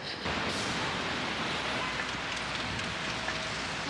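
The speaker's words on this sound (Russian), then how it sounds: "Питер решил показать настоящую питерскую осеннюю погоду. Дождик, серое небо." Autumn rain in Saint Petersburg, an even, steady hiss of falling drops that starts abruptly and continues unbroken, soft and moderately distant with no voices.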